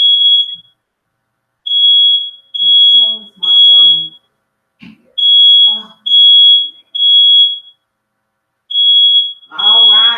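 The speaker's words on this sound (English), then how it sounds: "Oh, shut up, smoke detector." Shrill, piercing beeps from a home smoke alarm repeat in a steady series of long tones, loud and near, while a person talks between and under the blasts.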